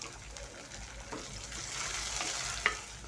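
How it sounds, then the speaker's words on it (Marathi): Onion and coriander sauté in hot oil in a kadhai, giving a soft, steady sizzle with a few faint stirring scrapes and a small clink, low in level and without speech. "कढई ठेवली, त्यामध्ये तेल टाकले। तेल छान गरम झाले तर कांदा टाकते।"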